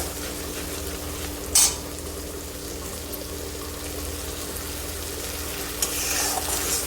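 Cabbage frying in oil in a pan while being stirred, a constant loud sizzle with a couple of brief sharp scraping knocks.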